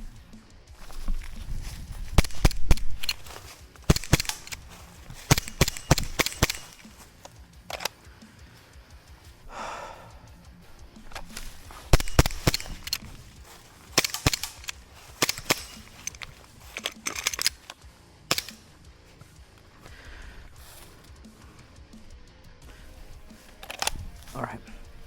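Airsoft CO2 pistol fired while moving during a draw-and-shoot drill: a string of sharp, loud pops in irregular bursts, separated by footsteps and shuffling, with a voice speaking in places.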